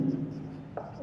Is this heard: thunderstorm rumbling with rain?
no